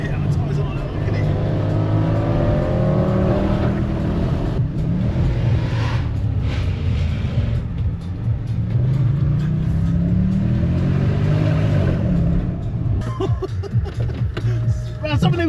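A Mercedes C63 AMG W204 V8 growls and revs loudly while driving, its exhaust rising and falling in surges, with people talking and laughing over it inside the car.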